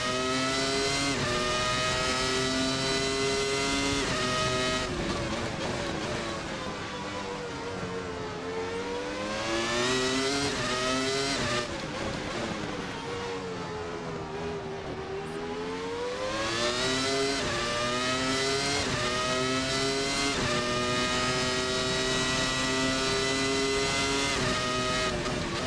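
Williams FW19 Formula 1 car in a racing simulator screams through repeated upshifts and downshifts, its high-pitched engine climbing and falling in long sweeps, loud and close throughout.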